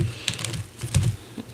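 A quick run of soft tapping and riffling as tarot cards are shuffled by hand, several dry flicks clustered close to the microphone, heard alone with no talking.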